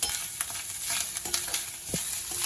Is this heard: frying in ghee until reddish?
yes